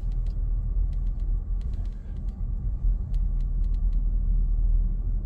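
A car creeps along at low speed during a parallel parking approach, a steady low engine and road rumble filling the cabin, with faint ticking clicks over it.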